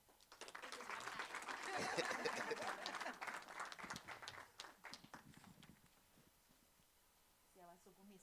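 An audience applauds at a leadership forum on retirement, with dense clapping that builds, peaks, then thins into scattered claps and fades as a voice begins speaking.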